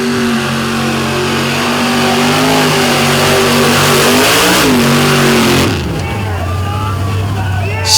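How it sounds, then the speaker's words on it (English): A DOT-class drag racing truck's loud engine revs and accelerates hard down the track at Sanford, pitch climbing steadily before dropping off abruptly, then a lower steady rumble continues. "But Daphne ready to go down the track right here in Sanford."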